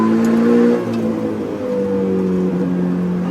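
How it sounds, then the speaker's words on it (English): Car engine on a race track at Winton, revving steadily and then dropping pitch as the driver shifts into second gear, loud and close with no talk. "I'll go into second gear now."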